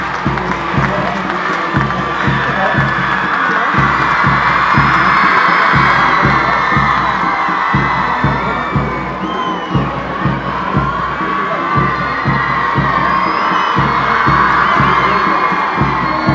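A large outdoor crowd at an Independence Day ceremony on Lebong Public Ground in Darjeeling cheers and claps continuously with children's shouts, a dense loud roar carried by a rhythmic low drumbeat and talk.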